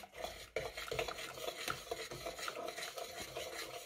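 Whisk or spoon stirring an egg and sugar mixture for eggnog in a pot heated to about 80 degrees, a steady scraping swirl with soft clinks against the metal, close and continuous without talk.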